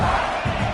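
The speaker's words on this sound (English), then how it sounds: "This crowd trying to make life miserable for this offense." A college football stadium crowd roars in a dense, steady wash of noise, loud and continuous for under a second, with no distinct voices standing out.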